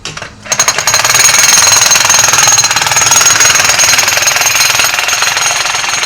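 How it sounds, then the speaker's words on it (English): A jackhammer pounds continuously and very loudly at close range, breaking out anapola rock on a driveway construction site in the Philippines, a dense rapid rattling that runs unbroken for several seconds. "There we are with the hammer getting that anapola rock out of there."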